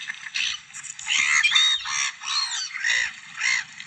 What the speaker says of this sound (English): Feeding the ducks on Windermere, are we?